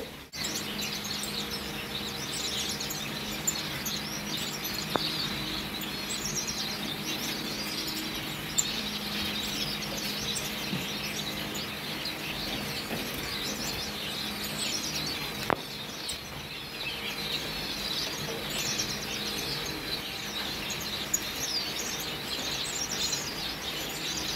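A breeding aviary full of finches, including yellow golden birds, chirps without pause: many overlapping tweets and calls at a steady moderate level, with no talking.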